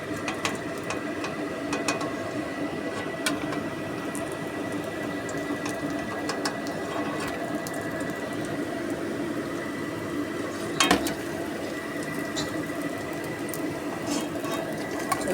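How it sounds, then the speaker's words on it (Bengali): Homemade vegetable chops frying in hot oil, a steady fine crackle and bubbling sizzle running throughout, with occasional small pops and clinks, no voices. "এভাবে চপগুলোকে আমি উল্টে পাল্টে ভেজে নেব"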